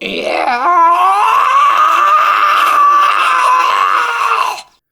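A creature in a StarCraft tale lets out a loud, sustained animal scream, harsh and rasping with a wavering pitch, held for about four seconds before cutting off abruptly.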